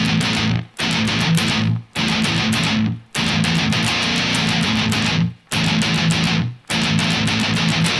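Distorted electric guitar playing the intro riff on the lowest three strings, loud, dense chugging bursts separated by five short stops, no talking.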